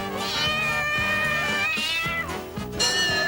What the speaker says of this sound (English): the cat, who perfected the art of playing ping pong